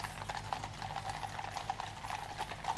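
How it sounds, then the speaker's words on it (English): Hooves of horses at a royal procession clip-clop in a steady, even rhythm on a hard surface, moderately near over a low rumbling background, with no talk. "these beautiful, magnificent horses"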